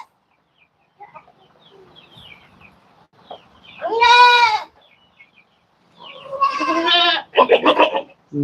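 Goats on a farm bleating in loud, close, wavering calls, one long bleat followed by two more after a pause, with faint clucks and small farmyard noises in the quiet stretches between.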